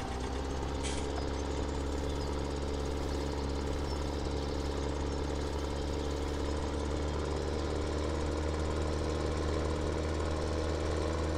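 Tractor engine in Farming Simulator 17, hauling a large, heavy implement near the limit of its capacity, runs as a steady, loud low-frequency drone with constant idling-like throb throughout, no talk over it.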